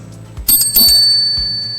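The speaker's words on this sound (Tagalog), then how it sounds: "3 bell dings mean that the time is up" Timer bell at a mayoral candidates' forum dings brightly twice in quick succession, close and loud, then its tone rings on and slowly fades.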